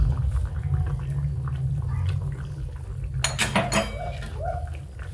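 A spoon stirs ivy gourd curry with ground coriander and garam masala in a pan, giving soft scraping under a low background hum, then a burst of sharp metallic clinks and clatter near the end.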